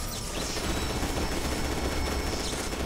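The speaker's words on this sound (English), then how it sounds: "And shock grenade, go!" A shock grenade detonating in the shooter FEAR 2, heard as a dense, crackling, sustained burst of rattling noise that stays loud and unbroken for about three seconds.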